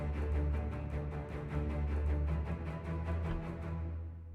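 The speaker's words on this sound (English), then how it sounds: "Also gave this rhythmic part to cello." Cello saws out a driving, repeated rhythmic figure inside a dense epic orchestral and choir arrangement, pulsing evenly at a fast clip over a heavy low sustain before the texture thins and fades.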